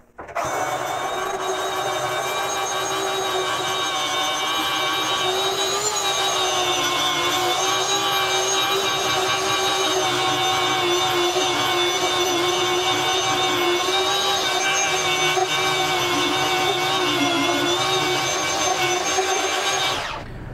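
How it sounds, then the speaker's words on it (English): Belt sander fitted with a coarse belt grinds across glued-up white oak boards for an RV table top, a loud, steady, close whine and rasp that runs without a break. "take a belt sander with a coarse belt on it and knock off all of these places where the board's lined up"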